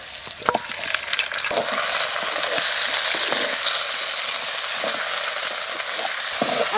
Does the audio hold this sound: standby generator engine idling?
no